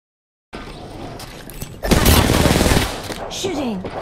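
Rapid automatic gunfire bursts out in Apex Legends after a quiet start, loud dense volleys of shots overlapping game sounds and brief voice callouts.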